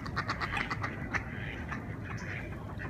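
Ducks quack in a quick run of short, nasal calls near the start, then grow sparser over a constant rustling background, fairly close and with no talking.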